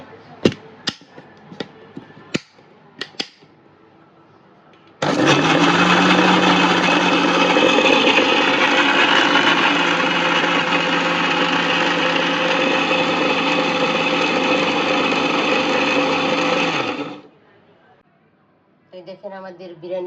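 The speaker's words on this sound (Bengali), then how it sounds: "এখন আমি ব্লেন্ডার করে নিব" Electric blender grinding biryani spices, a loud continuous high whirring run of about twelve seconds, close up, preceded by a few sharp knocks and followed by a brief voice.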